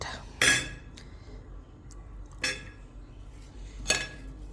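Utensils tossing a cucumber and watermelon salad in a bowl, giving three sharp metallic clinks spaced about a second and a half apart over a faint background, close by and with no speech.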